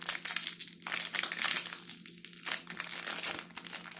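Trolls World Tour mystery figure packaging being cut open with scissors, with steady close crinkling and crunching of plastic and foil throughout, broken by brief pauses.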